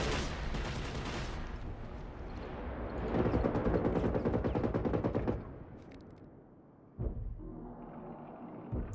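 Rapid automatic gunfire from an enemy in a first-person shooter set among trees and forest, dense bursts that swell louder midway, then thin out with scattered shots near the end.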